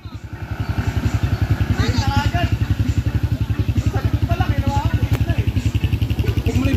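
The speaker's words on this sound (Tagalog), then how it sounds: "May motor pa doon." A motorcycle engine close by at a campsite, idling with a fast, even rhythmic putter throughout, loud and steady, while people talk over it now and then.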